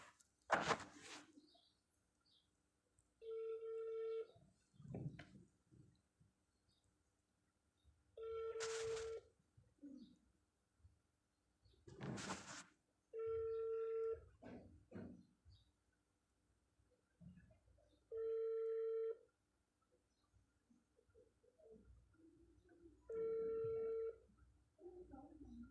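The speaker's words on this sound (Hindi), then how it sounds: "अब मैं आमिर के नंबर पे फ़ोन करना चाहूँगी" The ringback tone of an outgoing phone call repeats five times in evenly spaced bursts, quiet and steady, with sharp handling clicks and thumps between some of the rings.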